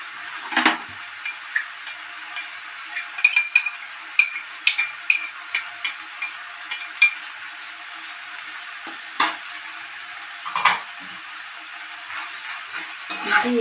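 Green chillies and chopped onion fry in oil for a bean mash, a soft steady sizzle broken by scattered scraping taps of the spatula as it stirs, close and fairly quiet, no one talking.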